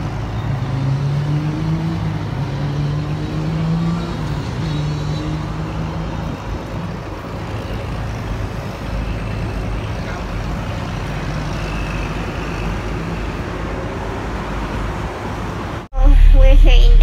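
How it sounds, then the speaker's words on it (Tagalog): Interior of city bus 961 heading to Yunlong, a steady low engine drone and road rumble with shifting gear whine, ending in a sudden loud thump as the bus jolts. "We're here in the bus"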